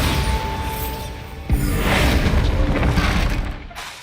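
A Bombarda spell going off in Hogwarts Legacy: a single heavy boom lands with a deep thump, then a rumbling blast and debris wash swell and fade over a few seconds.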